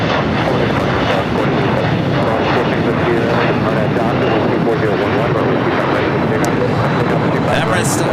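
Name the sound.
Delta 767-300ER jet airliner at LAX airport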